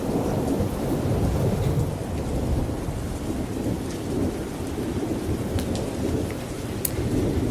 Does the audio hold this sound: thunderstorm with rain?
yes